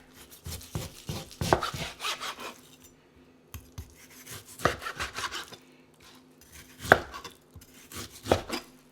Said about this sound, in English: We're gonna start chopping up some meat. Right here, I have a beef chuck shoulder roast, and I'm just gonna start chopping it up into bite-sized pieces.